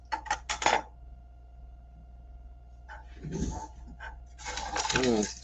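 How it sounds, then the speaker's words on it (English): Several dogs bark outside, heard as clustered distant yelps and whimpers mixed with clinking sounds and a voice speaking in the room. "It sound like 4 or 5 dogs."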